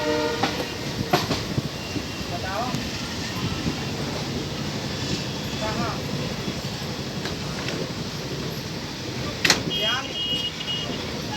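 Passenger train 05335, running from Kashipur to Kasganj out of Bareilly Junction, rumbles steadily along the rails with rattling wheel clatter and a few short horn-like blips. Faint voices murmur in the background.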